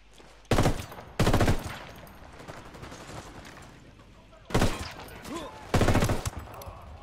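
Gunfire in the Ghost Recon video game: four loud, sharp bursts of rapid shots, two close together early and two more later, with quieter rumbling and faint talk in the gaps.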